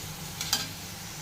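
Onions and curry leaves fry in a pan with a short hiss and one quick scrape of a spoon stirring, and no voices.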